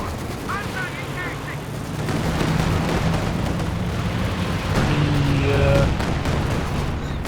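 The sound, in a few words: Katyusha rocket barrage in Company of Heroes 2 video game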